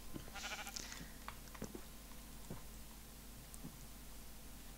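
Sheep bleating in Minecraft, a few faint, short bleats scattered over a low steady background hum, with no talking.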